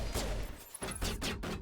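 Gunfire in the video game Mass Effect 1, rifle shots cracking in quick succession, loud and close, over a dense wash of game noise with no talking.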